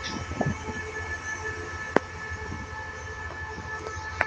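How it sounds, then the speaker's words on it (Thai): A train pulling out of Surat Thani railway station at night, a steady low rumble of wheels and rail noise with a faint hum, a sharp clank near the middle, and no voices. "ออกจากสถานีสุราษฎร์ธานีเป็นที่เรียบร้อย"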